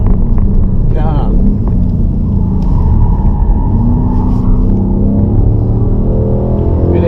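A 2015 Ford Mustang engine roars and rumbles loudly up through the revs as it accelerates on a wet road, someone speaking over the steady drone.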